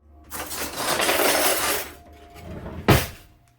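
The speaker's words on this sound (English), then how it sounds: "This was especially necessary with the sweeping the cutlery into the drawer scene" Foley of metal cutlery swept into a drawer for a short horror film, standing in for plastic props: a short jangling clatter of utensils, then a brief pause and a single sharp clink near the end.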